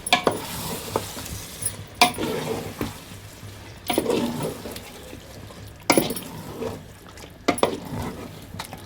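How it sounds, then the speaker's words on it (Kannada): Curd being stirred into biryani in a pot: repeated wet, squelching scrapes come in bursts roughly every two seconds, close and clear, with no talking. "ಮೊಸರು ಹಾಕೊಂಡು ಮಿಕ್ಸ್ ಮಾಡೋದು"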